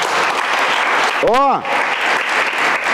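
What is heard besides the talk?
church audience applause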